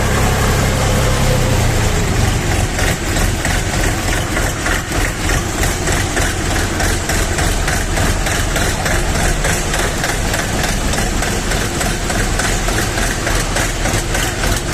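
A Kentavr 244SDX mini tractor engine idles steadily and unevenly, misfiring with a low, slightly irregular, rough chugging beat, loud and close throughout with no talking.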